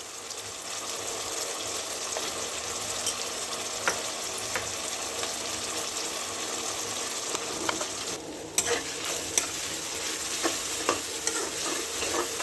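Potato pieces sizzle in a hot pan with masala while being stirred, giving a steady soft frying hiss with light scraping clicks throughout, fairly quiet and with no talking.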